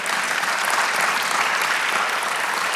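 A church congregation applauds during a Spanish-language sermon, a steady dense wash of many hands clapping at full, even loudness for a few seconds with no voices on top.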